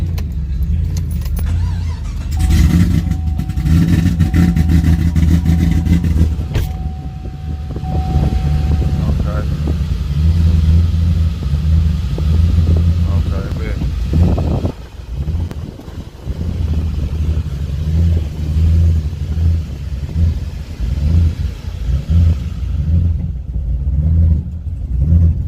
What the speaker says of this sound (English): Y'all hear that can.